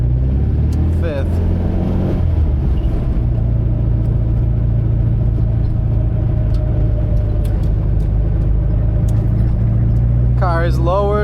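A 1973 Porsche 914 Targa with a 2.0L engine and manual gearbox, lowered, cruising on the road with a steady low engine drone and road rumble throughout, while someone talks over it.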